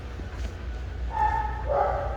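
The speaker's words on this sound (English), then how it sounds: "Ollie is getting a little overexcited due to the dogs barking that are in the store" Dogs yip and bark inside a store, heard at moderate distance over a steady low hum of indoor background noise, with two short raised bursts near the end.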